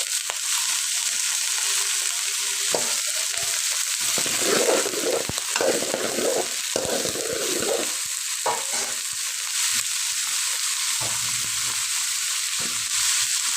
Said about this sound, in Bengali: ভালোভাবে ভাজিয়ে করে নিতে হবে।